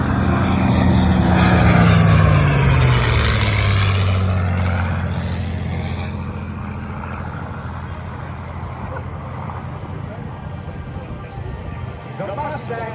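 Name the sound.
Corsair and P-51 Mustang propeller aircraft at airshow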